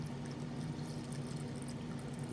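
Tap or alkaline water pours into a pot of Tagalog pineapple beef menudo, a steady low splashing gush that runs the whole short stretch at moderate volume with no speech.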